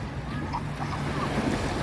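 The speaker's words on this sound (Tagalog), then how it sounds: "Babad po ako dito sa dagat ngayon." Sea waves washing around someone soaking in the water, a continuous close wash of surf mixed with wind rumble on the microphone, with no voices.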